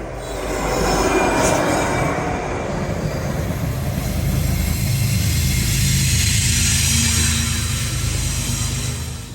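A Union Pacific EMD locomotive passes in Austell, Georgia, as a loud, steady roar of engine and rolling cars that lasts throughout, with wheels squealing faintly above the rumble.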